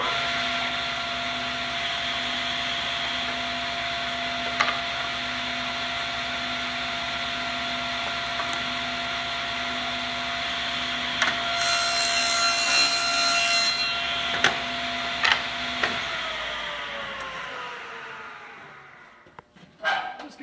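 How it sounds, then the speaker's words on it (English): A table saw rips a wooden box bottom to width, its steady loud whine running continuously under sawing noise for most of the stretch, with a few knocks, before spinning down and falling quiet near the end. "And now I can table saw it to width."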